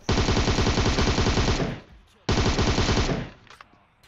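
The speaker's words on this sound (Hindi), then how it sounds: "अब गोलियां इधर तोड़ फोड़ के चल रही है" Two long, loud bursts of automatic gunfire rattle in a PUBG Mobile match, with a brief pause between them and a fading tail after the second.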